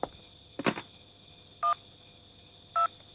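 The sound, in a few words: telephone being dialed for a call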